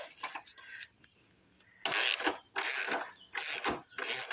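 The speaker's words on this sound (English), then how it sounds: "take your 10 millimeter extension, put it on this bolt right here" A hand ratchet on a 10 mm extension backs out a battery bracket bolt on a Chevrolet Equinox, faint light clicks at first, then four loud bursts of rapid ratcheting clicks, close and alone.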